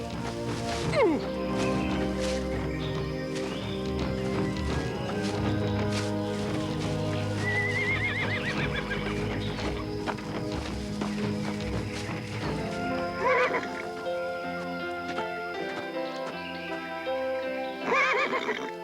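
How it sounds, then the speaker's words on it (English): Horses neigh and whinny several times over a dense, steady backdrop of music, with faint hoof clops and movement mixed in throughout. "Horses. Where there are horses, there are men."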